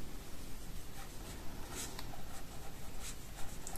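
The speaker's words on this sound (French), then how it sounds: "je vais rajouter à la main, avant de coller, un petit texte manuscrit quand même pour situer" Pen scratching steadily across a scrapbook page as a short handwritten note is added, a continuous soft scraping with small strokes, close and fairly quiet with no talk.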